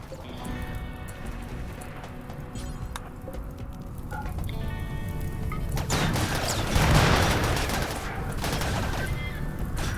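Colonists firing weapons during a RimWorld mech battle, a dense rattle of small game gunshots layered over steady background rumble, building toward a louder burst in the middle.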